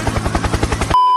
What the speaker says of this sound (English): Another hero you should never underestimate is the Helicopter Balmond.